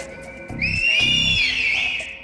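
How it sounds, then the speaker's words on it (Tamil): A person whistles loudly and close in a television quiz setting, one long sliding shrill note lasting over a second, with a low murmur of a crowd beneath. "இங்க யாராச்சும் விசில் அடிப்பீங்களா? அடிங்க."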